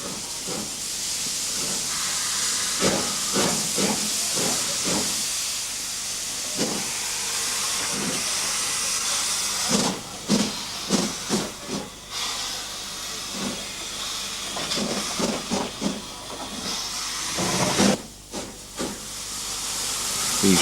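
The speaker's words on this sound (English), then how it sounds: "These shunters were employed reassembling the coal wagons for their onward journey." Broad gauge steam shunting locomotives hiss steadily while reassembling coal wagons in a yard, with repeated sharp bursts and chuffs of escaping steam and clanking wagon movement, loud and near.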